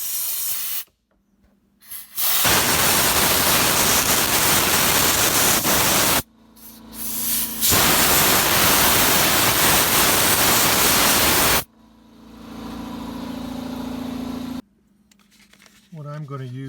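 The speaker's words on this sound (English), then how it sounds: "I'm just going to blow the bulbs out a little bit with a compressed air." Compressed air blasts out Toyota horn bulbs in loud hissing bursts, two long sustained jets separated by short gaps and a brief spurt between them, with quieter workshop noise around them.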